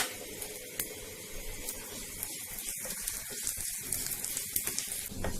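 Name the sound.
urad dal and cumin seeds frying in oil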